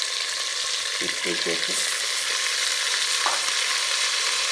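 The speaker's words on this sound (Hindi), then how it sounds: "यहाँ पे हमारा गोश्त फ्राई हो रहा है" Meat frying in a masala base with chicken and tomato for brown biryani gives off a loud, steady sizzle, with a few stirring scrapes near the middle and a brief spoken phrase.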